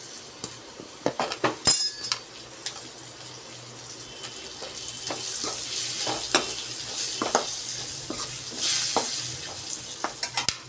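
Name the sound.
potato pieces frying in a pan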